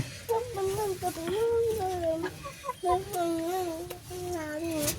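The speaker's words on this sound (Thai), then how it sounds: "เลี้ยงไก่ตัวหนึง" Chickens clucking close by, a steady run of calls with a voice faintly in the background.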